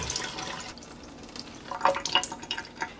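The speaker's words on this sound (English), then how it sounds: "There's a lot of seawater in here." Seawater poured out of a freshly opened live sea urchin, heard as a few close, light splashes and drips into a sink in a quiet kitchen.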